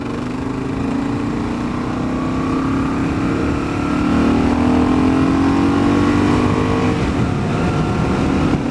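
A Kawasaki KLR650 motorcycle fitted with an FMF exhaust pipe and porting mod drones steadily while riding, its engine note climbing gradually as it accelerates, with constant wind rush over the throaty exhaust.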